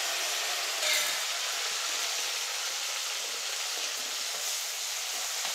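Shallots and curry leaves frying in hot oil in a pan for a Pongal vegetable tamarind curry, a steady, dense crackling sizzle heard close and continuous throughout, without voices.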